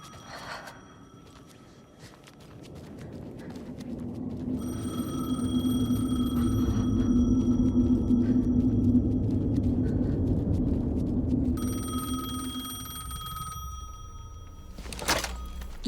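An old-style telephone bell rings in two long bursts in the video game Alan Wake II, sounding over a low ambient rumble with a few thunks and a sharp knock near the end.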